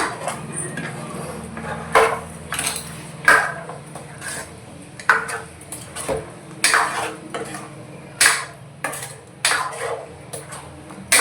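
Mutton sambar stirred in a pot with a metal spoon, a series of irregular scraping and clanking strokes against the vessel over a soft background sizzle.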